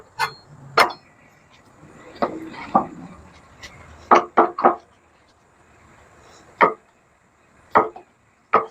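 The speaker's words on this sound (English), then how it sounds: "first thing looks like we're going to do is cut the meat up" A knife cutting meat on a board in a home kitchen, heard as a handful of sharp, separate knocks with irregular pauses between them, close and fairly loud, with faint talk in the background.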